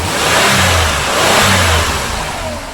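The 2001 Chevy 2500HD pickup's swapped-in engine revs up and eases back continuously, loud and close, with a steady mid-pitched roar and no voices.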